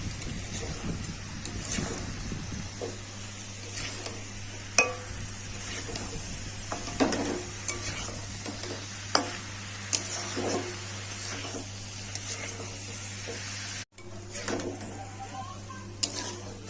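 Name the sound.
stirring hilsa fish head with cabbage in pan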